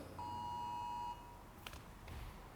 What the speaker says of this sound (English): Oh, there's the handstand alarm again.